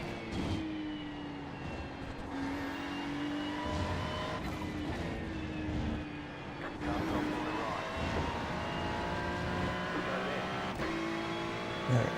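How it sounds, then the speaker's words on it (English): A Porsche GT3 race car at the Red Bull Ring gives a sustained engine drone with rising and falling pitch through revs and gear changes, loud and steady, with a voice talking at times. "we can all agree the Porsche sounds better"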